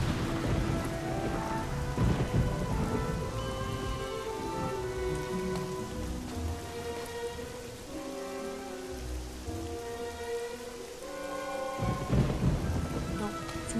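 A thunderstorm in Fable Anniversary, with steady heavy rain and deep rolling thunder rumbles swelling near the start and again near the end, under scattered game tones and no speech.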